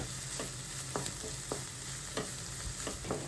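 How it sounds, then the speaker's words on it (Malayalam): Chopped cabbage sizzles gently in a frying pan while a spatula stirs it with soft, repeated scraping strokes, close and steady, with no talk. "ക്യാബേജ് ഒട്ടും തന്നെ കുക്കാക്കി എടുക്കുന്നില്ല. ജസ്റ്റ് ഇങ്ങനെ ഇളക്കി കൊടുക്കുന്നതേ ഉള്ളൂ."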